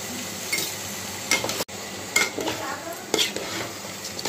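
Rice being stirred and fried with peas and spices in a pot, close scraping strokes of a spoon against metal over a soft sizzle, with a few sharp clanks and no talking.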